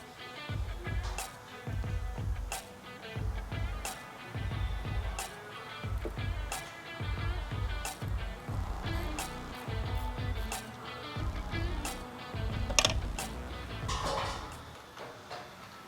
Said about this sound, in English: It's a 10mm extension and a ratchet.